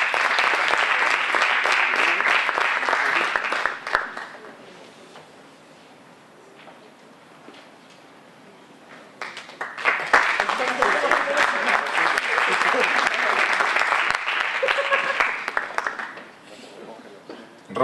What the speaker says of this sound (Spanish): pero también pido un aplauso para él